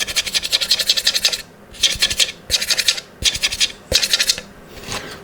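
A violin maker scratches the wood of a violin with a tool in short bursts of rapid, close scraping strokes, six clusters separated by brief pauses.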